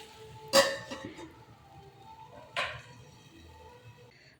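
A spoon knocks against a pot of cooking potatoes in two distinct clinks a couple of seconds apart, close and fairly quiet, with faint softer scrapes between.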